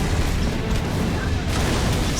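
Explosion from a Prowler vehicle collision in Halo 3, heard as a loud, sustained booming rumble with crackling bursts throughout.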